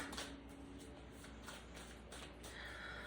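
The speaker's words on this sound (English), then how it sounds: "1 more shuffle, thank you." Oracle cards being shuffled by hand, a soft, continuous papery rustle with faint brushing strokes. It is quiet and close and heard on its own.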